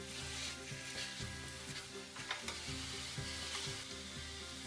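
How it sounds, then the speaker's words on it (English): Pork chops sizzle and fry steadily in a hot pan with a dense, continuous crackle close up. Low rhythmic bumps run underneath throughout. "amp the heat up a little bit and brown it nicely on the other side"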